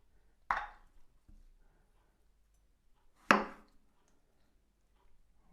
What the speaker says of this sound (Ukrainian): Тепер нарізаємо наші томати ось такими четвертинками, прибираємо плодоніжки.